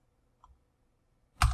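A single close keyboard key press while working in Maya, a sharp click at the end preceded by a faint tap, in an otherwise quiet room.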